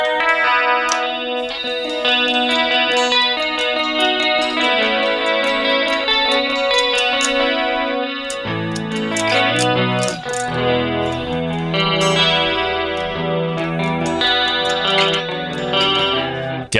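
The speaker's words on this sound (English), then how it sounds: "that's just like 80s clean tone all the way" Clean 1980s-style electric guitar tone with chorus from an Amplitube Rockman preset, played loud and continuously as shimmering arpeggiated chords and picked notes, with no talking.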